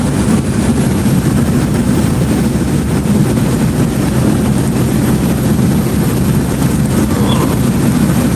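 A C-130 military transport plane passes overhead, a loud, steady, low propeller drone that fills the whole stretch without a break.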